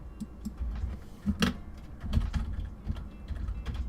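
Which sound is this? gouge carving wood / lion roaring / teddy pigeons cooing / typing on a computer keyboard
typing on a computer keyboard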